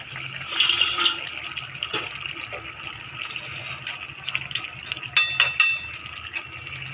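Tangra fish go into a pot of boiling potato curry, with steady bubbling and simmering, a few splashes and soft clinks of utensils, close by and moderately loud.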